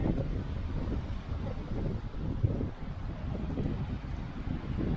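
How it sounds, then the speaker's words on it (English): Steady wind gusts rumble across an outdoor microphone at a farm site, a continuous low buffeting roar that holds for the whole stretch with no voices. "A bit windy, yes?"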